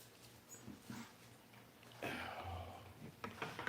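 A dog whimpers and yips softly in a room during leatherworking, short whiny cries spread across the moment with some louder bursts near the end, fairly close.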